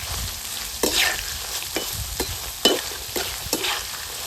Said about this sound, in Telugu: ఎండుమిర్చి అలాగే అల్లం తురుము, ఈ 2 వేసుకొని బాగా వేపాలి.